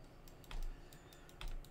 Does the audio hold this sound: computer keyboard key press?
yes